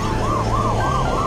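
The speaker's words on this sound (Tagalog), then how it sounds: "Lang parang may ambulance." A wailing ambulance siren on a street, cycling rapidly up and down in a steady repeating yelp, loud and close over the low rumble of vehicle traffic.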